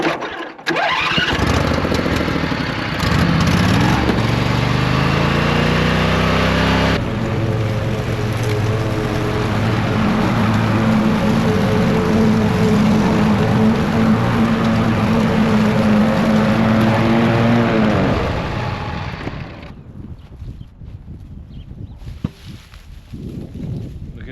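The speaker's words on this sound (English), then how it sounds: "you're just gonna jump point to point on that and it'll start the mower" Riding lawn mower engine cranks and catches after a screwdriver jump-start at the solenoid, then runs loud and steady close by for about twenty seconds before shutting down.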